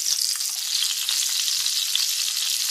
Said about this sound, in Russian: Котлеты наши жарятся.